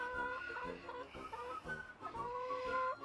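Backyard chickens clucking in a garden, a steady run of close, repeated clucks and soft calls from several hens, with no talking over them.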